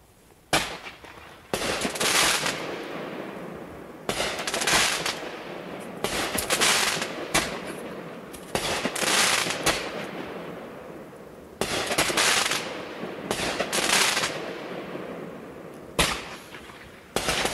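New Year's fireworks from a backyard setup go off in a rapid series of sharp cracks and pops, loud and close, in repeated volleys with brief gaps between bursts.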